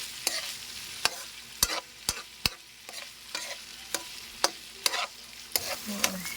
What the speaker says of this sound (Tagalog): Ipiprito ko yung hotdog.